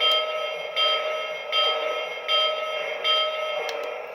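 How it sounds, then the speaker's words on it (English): Bell of a Lionel Promontory Summit Lion Chief toy train set, heard as a steady, bright ringing that pulses in a regular rhythm about every three-quarters of a second, loud and close. "Here's the bell."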